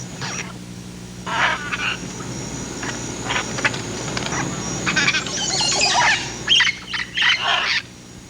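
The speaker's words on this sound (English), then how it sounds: "More than 300 species of birds swarm around, along with an indefinite number of reptile and mammal species." Tropical forest birds at Tikal squawk and squeal in irregular bursts over a low steady background hum, loud calls clustering toward the end.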